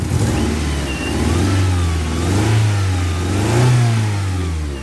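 A 1985 Toyota MR2 AW11 engine, fitted with a freshly welded radiator, revs up and down in several smooth swells from a low idle, with an odd whining undertone riding over the close, loud exhaust note.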